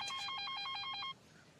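A mobile phone rings with a bright repeating electronic trill in a domestic drama scene, about a second of rapid pulsed tones that then stop, leaving quiet room tone.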